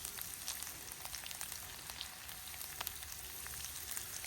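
Sliced peppers hit a hot frying pan with browning ingredients for a one-pan brunch, giving a soft, steady sizzle and hiss. Faint scattered pops sit over it with no voices.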